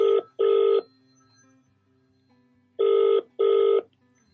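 A telephone ringing in short electronic double bursts, two pairs of rings separated by a pause, loud and close, with no talk over it.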